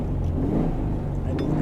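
A 1963 Porsche 356B classic engine running: a dense, loud, close mechanical rumble with a rising rev, steady throughout the short stretch with no talk over it.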